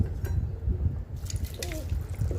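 Water trickles and splashes briefly into a mixer jar holding mint, green chilies, ginger and garlic, with soft drips and gurgles over a low background rumble.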